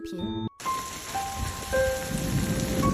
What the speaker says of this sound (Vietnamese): Ngoài trời mưa xối xả, sấm chớp nổ đi đùng